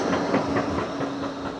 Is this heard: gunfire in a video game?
no